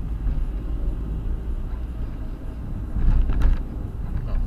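Car engine accelerating in second gear during a driving lesson, a low steady drone with a rise in revs and rumble toward the end, heard from inside the cabin with no talk.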